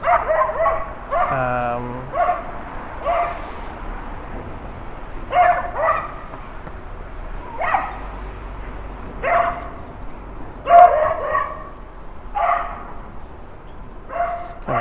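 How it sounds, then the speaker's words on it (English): An aggressive dog barks repeatedly in short, loud bursts along a street during a scooter ride in Wellington, New Zealand, with a whimpering yip early on and a voice heard in between. "Agro dog."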